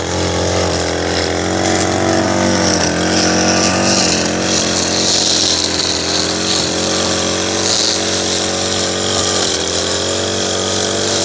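A string trimmer runs steadily and loudly at close range, edging a mulch bed that has no defined edge. Its engine drone stays continuous with slight shifts in pitch and no speech over it.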